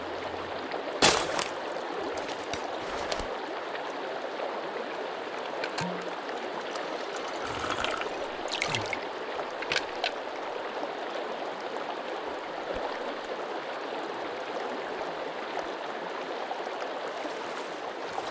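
Steady broadband rushing of a river flowing through a forest in the survival game Sons of the Forest, continuous and even throughout, with a few brief louder splashes or clicks and no talking.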